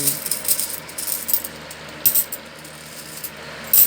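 Coins saved in a jar over several years are handled up close, with bright metallic clinks and small rattling bursts scattered at irregular moments against a quiet background.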